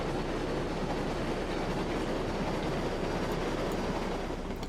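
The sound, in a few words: train rolling along track in video game Railroads Online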